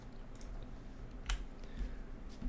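Someone presses computer keyboard keys while working in an Excel spreadsheet, giving soft, sparse clicks at close range over a low background hum.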